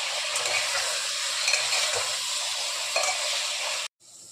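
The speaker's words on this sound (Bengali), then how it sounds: "টমেটো দিয়ে এখন একটু ভেজে নেব" Mutton and tomatoes fry in a pan with a steady, close broadband sizzle and some stirring, running continuously for about four seconds before cutting off abruptly near the end.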